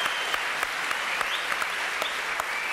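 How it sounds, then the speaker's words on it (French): A television show audience applauds Indra with dense, steady clapping, loud and sustained throughout. "Applaudissements pour Indra, mesdames, messieurs"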